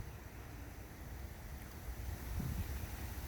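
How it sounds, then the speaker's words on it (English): Wind blowing outdoors: a steady low rumble and buffeting across the microphone, swelling slightly toward the end, with no other clear sounds or voices. "The wind blowing pretty good."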